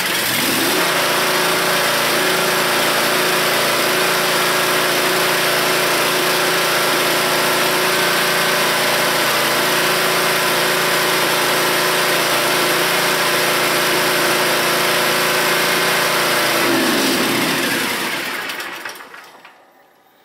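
A small carbureted engine on equipment fitted with a new inline fuel filter runs steadily at a loud, close idle with a constant drone and rumble for about seventeen seconds, then shuts off and fades to silence.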